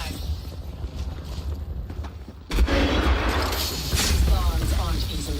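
Frag grenade explosion and gunfire in Apex Legends: a sudden loud blast midway, followed by scattered shots and rumbling, after a quieter stretch with faint mechanical sounds.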